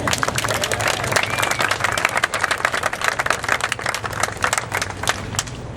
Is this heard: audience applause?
yes